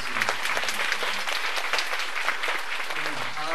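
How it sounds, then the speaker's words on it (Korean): A theater audience at a musical's closing-night curtain call claps in a steady, dense patter of many hands, moderately loud and continuous, with no voices standing out. "다시 한번 큰 박수"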